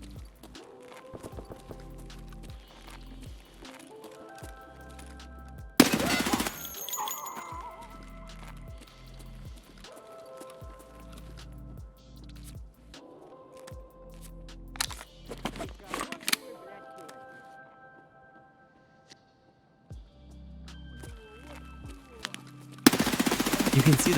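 Gunfire in the shooter game Escape from Tarkov, bursts of automatic shots and single cracks scattered across a long stretch, some loud and close, others softer, with someone talking over much of it.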